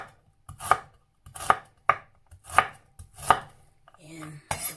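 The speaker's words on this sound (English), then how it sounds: "Tapos na hiwain yung carrots." Knife chopping carrots on a cutting board for a homemade Bolognese sauce: five or six sharp, separate chops in an uneven rhythm, close and clear, with a short soft scrape near the end.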